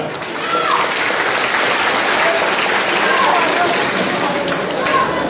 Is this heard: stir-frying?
no